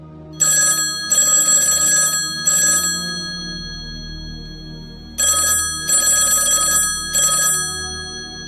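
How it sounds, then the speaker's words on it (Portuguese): An electric telephone bell rings loudly and close in two groups of rapid trilling bursts, separated by a short pause, with no voices. "Neste momento, o telefone tocou."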